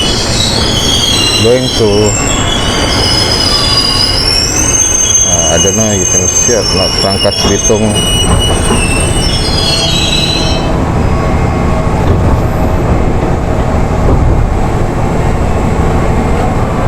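A Jakarta commuter line train pulls into the platform with loud screeching wheel squeal for the first ten seconds, then a steady heavy rumble of railcars rolling past, someone talking briefly over it.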